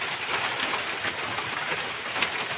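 Heavy, unbroken rain poured down during Typhoon Kristine, a steady dense hiss of drops on surfaces, close and even in level, with faint bird calls behind it.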